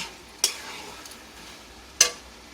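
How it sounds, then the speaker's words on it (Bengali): Mutton and cabbage frying in a pan, with two sharp spatula scrapes against the pan standing out over a faint, steady background sizzle. "এবার আমি এটাকে ভালো করে আবার ভেজে নিচ্ছি।"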